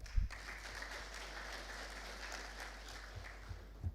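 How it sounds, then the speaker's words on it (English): An audience at a formal textbook and strategic plan launch event applauds. The applause is faint and distant, a soft, even patter that lasts about four seconds. "I think that deserves a clap."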